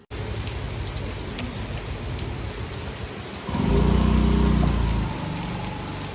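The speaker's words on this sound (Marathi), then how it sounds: "किती पाऊस पडतोय" Heavy rain pours down in a dense, steady roar, joined about halfway through by a deep low rumble that lasts a couple of seconds before the downpour continues alone.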